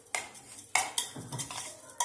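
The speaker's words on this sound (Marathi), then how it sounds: "हे चांगले मिश्रण मिक्स करून घेणार आहोत।" A spoon scrapes and clinks against a pan or bowl as salt is stirred into a poha mixture, giving a few quick, close, light strokes with no voices.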